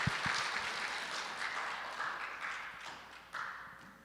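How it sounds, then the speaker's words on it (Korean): Auditorium audience at a school vision lecture gives a long round of applause in thanks to a pastor, a steady, fairly distant wash of clapping with a few closer hand taps. "자, 우리 큰 박수로 감사의 마음을 전하도록 하겠습니다."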